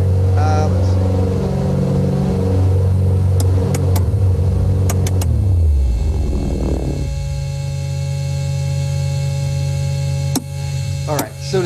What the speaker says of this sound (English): So to start a fuel injected engine